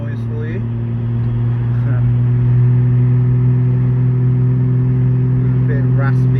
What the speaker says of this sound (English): a bit of induction and exhaust noise for you.